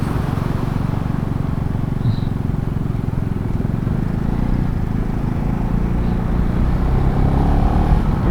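A KTM Duke 390 motorcycle rides a high mountain road toward Pangong Lake in Ladakh at about 14,000 feet, giving a loud, unbroken roar of engine drone mixed with rushing wind.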